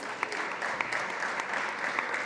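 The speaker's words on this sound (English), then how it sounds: "Give her a round of applause." Moderate applause from a conference audience at SXSW 2025, a steady patter of clapping hands with a few sharper claps standing out.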